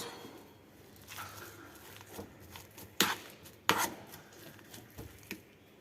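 Boiled potatoes mashed with a hand masher in a bowl, a series of irregular soft thumps and a few sharper knocks against the bowl, close by and fairly quiet.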